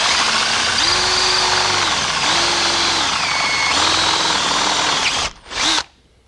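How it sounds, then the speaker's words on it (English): A power drill bores holes for a Big Air Ice wakeboard tower install, whining in three spinning bursts that rise and fall, then stopping abruptly near the end. "All right, so let's get this last one drilled out."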